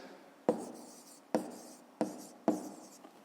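Pen writing down a math answer on paper, four short scratchy strokes in a steady rhythm, close and fairly quiet, with no voices.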